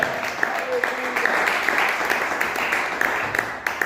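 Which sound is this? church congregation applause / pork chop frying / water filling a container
church congregation applause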